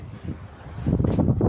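Strong outdoor wind buffeting the microphone beside a 2003 Blue Bird All American school bus, a low rumbling roar that swells and gusts louder toward the end of the brief moment.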